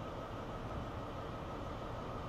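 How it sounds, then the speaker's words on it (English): A small train pulling into a station makes a low, steady rumble that stays even and moderately distant throughout. "Is this my train now pulling in?"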